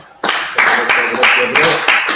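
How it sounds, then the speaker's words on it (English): Gathered group clapping in unison on cue, loud, close rhythmic claps in a steady slow beat with voices underneath. "All right, clap it up."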